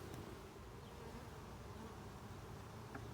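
Honey bees buzz continuously during a hive inspection, a faint, even drone close by with no talk over it.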